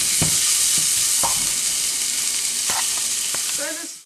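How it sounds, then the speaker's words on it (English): Spring onions frying in a hot pan for a cashew cream cheese prawn pasta, a steady loud sizzle running throughout with a few brief clinks and stirring scrapes, no talking. "I'm going to fry these spring onions until they start to soften"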